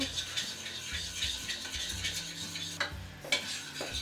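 Scraping, rhythmic stirring of melted chocolate in a small saucepan over heat, a utensil working steadily against the metal with light clicks, close up and fairly quiet.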